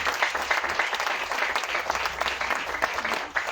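Congregation applauding the Lord during a church service on baptism, dense lively clapping throughout with faint voices underneath.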